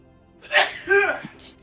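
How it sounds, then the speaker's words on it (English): A single person sneezes indoors in a dusty house, one close, loud voiced burst with a drawn-out tail, followed by a brief quiet breath. "Everybody in this house is sneezing up a storm."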